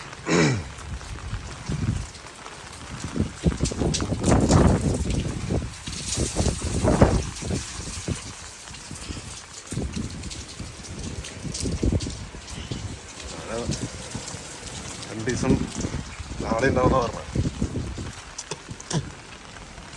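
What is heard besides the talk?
rain falling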